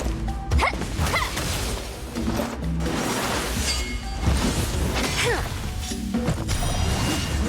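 Rapid sword slash attacks in the video game Honkai: Star Rail, with repeated sharp swooshes and crashing impacts in a busy, layered burst of combat effects.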